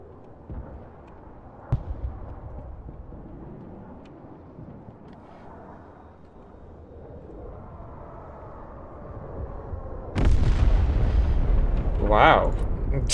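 Bombing explosions in the Broken Arrow video game build from a low rumble into a loud, sustained roar of blasts near the end, with scattered distant booms earlier.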